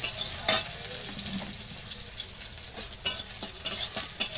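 Chili sizzles in hot oil in a pan for a soybean and mixed vegetable dish, a steady close frying hiss broken by sharp crackles and spatters, with no voices.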